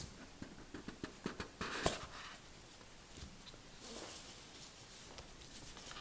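A Samsung Galaxy S III retail box is opened by hand, giving soft scraping and cardboard rustles, a few taps, and a sharper sliding scrape partway through, close and quiet with no speech.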